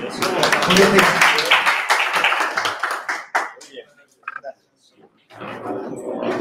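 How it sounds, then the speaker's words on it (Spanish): An audience at a university talk on ecumenism and interreligious dialogue gives dense, close applause of many hands for about three seconds, then tapers to a few stray claps and a pause before talk resumes. "Démosle un aplauso a María del Mar."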